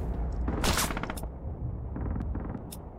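Dense machine gun fire in the World War II shooter Red Orchestra 2, loud, rapid bursts crackling close by against a constant battle din with sharp cracks spaced through it.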